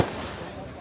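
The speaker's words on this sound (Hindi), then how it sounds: "बहुत बढ़िया आतिशबाजी चल रही है" Fireworks at a fair's closing night boom once sharply nearby, then the blast rumbles and fades over a fraction of a second with no voices.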